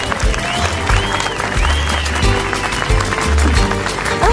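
Audience clapping at a traditional dance ceremony, bursts of applause with crowd noise and overlapping voices in fairly loud, fluctuating waves.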